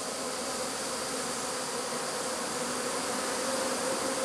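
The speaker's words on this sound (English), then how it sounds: "Really kind of nervous about walking through bees." Dense buzzing of a honey bee swarm at a hive entrance, a steady humming drone of countless bees close at hand, even and unbroken, with no talking.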